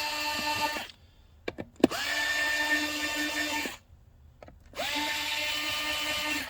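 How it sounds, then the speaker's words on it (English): A power screwdriver backs screws out of an iRobot Braava Jet M6 robot mop, running in two long whirring bursts close by, with brief clicks and handling between them. "So once you remove those 5 screws, then we're going to move on to this pad plate."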